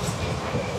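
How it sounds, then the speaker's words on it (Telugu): A passenger train departing Kakinada rumbles as it starts moving, a brief steady low clatter heard from inside the carriage. "ట్రైన్ అయితే ఇప్పుడే స్టార్ట్ చేశాడు."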